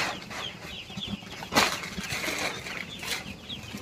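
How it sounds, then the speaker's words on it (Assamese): Local ducks and ducklings on a duck farm in Nagaon, Assam rustle and flap about with scattered calls and a brief burst of wing flapping, fairly close, no talking. "চাওক হাঁহবিলাক কিমান ধুনীয়াকৈ ঘূৰি আছে"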